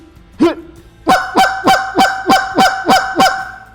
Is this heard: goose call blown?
yes